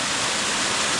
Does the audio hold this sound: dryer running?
no